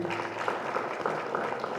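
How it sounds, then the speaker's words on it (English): Brief burst of audience clapping at a tech community conference panel in Kenya, a short, moderately loud patter of many hands heard alone. "So a round of applause for Alvin."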